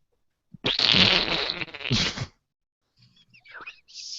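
A loud, sputtering fart sound plays as a joke for nearly two seconds, followed by a short pause and then softer, scattered noises.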